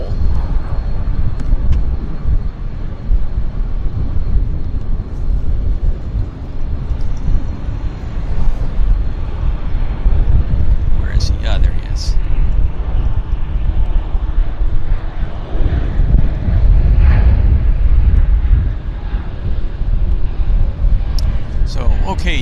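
An aircraft taxies at Vancouver Airport, a steady low engine rumble close by with a few brief higher noises, under a steady outdoor wash; people are not heard speaking in the stretch.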